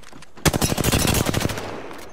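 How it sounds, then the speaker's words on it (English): A burst of rapid automatic gunfire from the shooter game Apex Legends rattles out loud and close, around a dozen fast shots in about a second, then trails off into quiet. "Opening fire on the enemy."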